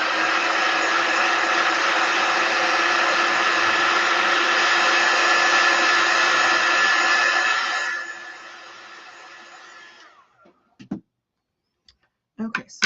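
A hair dryer blows steadily and loudly close by to dry chalk paste on a transfer for a Valentine's Day tiered tray, then cuts off around eight seconds, followed by a few small clicks and handling noises.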